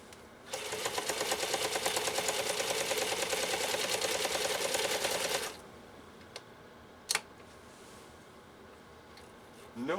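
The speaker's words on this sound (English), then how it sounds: "No difficulty at all for Jill's 523, and I'm looking at some gorgeous stitches that it just laid down" A restored Necchi 523 sewing machine stitches steadily for about five seconds with a fast, even whir and rapid needle rhythm, then stops abruptly, followed by a couple of faint clicks in a quiet room.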